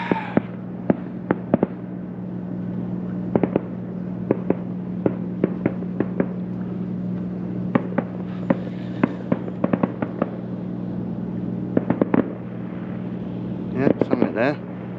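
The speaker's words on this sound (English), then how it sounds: "Fireworks." Scattered sharp pops and cracks of fireworks bursting in the distance, heard from a small boat on Southampton Water, irregularly spaced, over a steady low hum.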